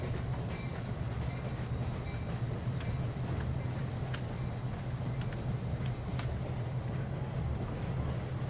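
A train rolling along in the video game Irony Curtain: From Matryoshka with Love, a steady low rumble with faint clanks and rattles running continuously and evenly throughout.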